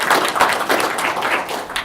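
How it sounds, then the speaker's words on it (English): Crowd applause at a Drupal camp keynote, a steady dense wash of clapping from an audience that holds evenly for about two seconds. "So just a round of applause and appreciation"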